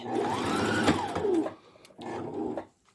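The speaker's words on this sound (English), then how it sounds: "I'm just going to go ahead and sew across, just to start out with." Sewing machine stitching across fabric for an origami bag: a close, steady motor hum with rapid needle clatter, a short pause, then a second burst of stitching that stops abruptly.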